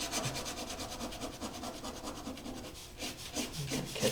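Ink pen scratching across toned paper while drawing light on forms, a continuous dry rubbing scrape with repeated short strokes, close and steady throughout.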